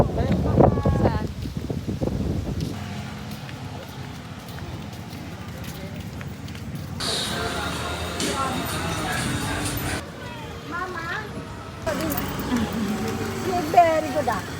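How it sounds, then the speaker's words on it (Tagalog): Strong wind buffets the microphone at Bulabog Beach, a steady rushing roar with gusty swells throughout, while voices talk briefly at the start and again near the end. "Mahangin!"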